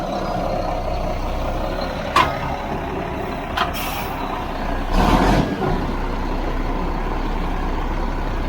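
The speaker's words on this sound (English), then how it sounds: "Okay, number 2 truck decided to back in." A truck backs into position with a steady engine rumble throughout, a few short air-brake hisses and a louder burst of hiss and clatter near the middle, with no voices.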